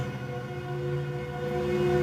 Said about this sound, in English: If you hear that train in the background.